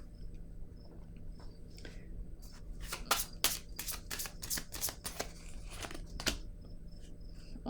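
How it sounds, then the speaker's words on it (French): Tarot cards being handled and set down one after another on a table: a cluster of soft, close slaps and papery swishes in the middle, with faint steady insect-like chirping in the background and no voices. "Je vais déposer une autre carte ici."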